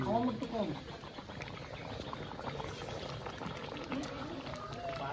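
Water simmering in a pot of chicken curry with potatoes, giving a soft steady bubbling and faint patter at low level, with a voice or two heard faintly in the background.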